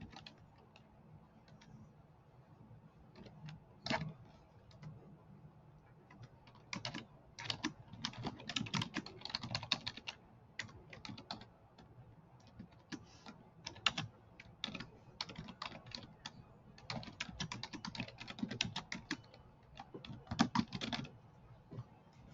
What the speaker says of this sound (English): Go ahead and type in all the information that you want to put